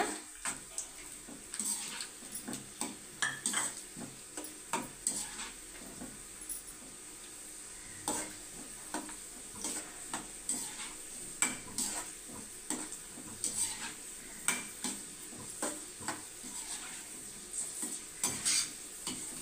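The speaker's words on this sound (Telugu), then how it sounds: "ఇప్పుడు అందులో కొన్ని జీడిపప్పులు వేసుకొని ఫ్రై చేసుకోవాలి కొంచెం లైట్గాన." Cashew nuts fry lightly in hot oil with a soft sizzle under frequent metallic stirring and scraping clicks, coming in uneven bursts across the span; no voices.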